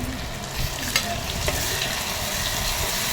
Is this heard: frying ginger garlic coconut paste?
yes